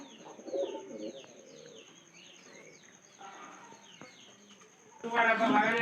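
Pigeons of a prized calling breed coo and murmur close by in a cage, in soft repeated bursts with faint chirps and a brief rustle of wings near the end.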